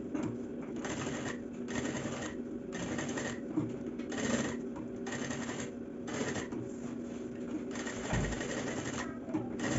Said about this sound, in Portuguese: Então eu vou fazer a costura de segurança em toda a volta.